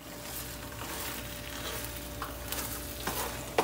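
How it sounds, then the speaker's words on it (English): Vegan vegetable fried rice frying in a pan while being stirred, a constant close sizzle with occasional scrapes and a sharp clink at the end. "we just mixing it in real good. Letting it fry and do what it do"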